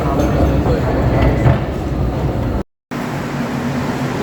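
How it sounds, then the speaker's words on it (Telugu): Steady rumble and broadband roar of a metro train ride in Canada, loud and continuous for the whole stretch apart from a brief dropout, with some faint talk mixed into the noise. "సో మెట్రో తీసుకున్నాం"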